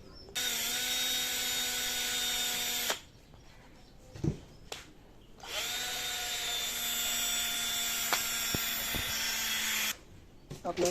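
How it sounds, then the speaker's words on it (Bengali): A Metabo cordless drill whines at high pitch in two long runs separated by a pause with a few clicks and knocks, then cuts off, close to the listener. "মেটাবো কোম্পানির একটা কটলেস ড্রিল মেশিন দিয়ে।"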